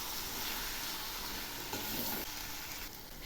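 Bitter greens (betho shak) being stirred in an oiled pan, giving a steady close sizzle and frying hiss with faint scraping, continuous and without talk.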